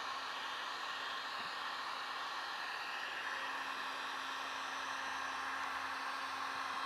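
Heat gun blowing hot air onto an inflatable's attachment mount point, a steady continuous airy roar with a faint tonal hum, unbroken for several seconds with no talking.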